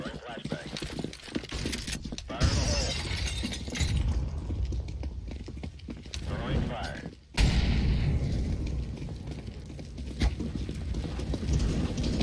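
A grenade goes off during a CS:GO match, a sudden loud blast breaking through gunfire and clattering game sounds while players talk over it.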